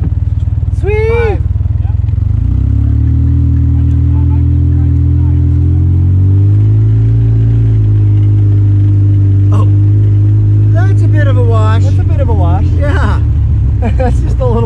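A Razor side-by-side off-road vehicle drives along with a steady, loud engine drone that shifts in pitch as it speeds up and slows, and a voice talks over it at the start and end.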